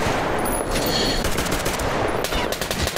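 A gun firing on full auto in Metro Exodus, a loud, close, continuous burst of rapid shots lasting about three seconds with no talking.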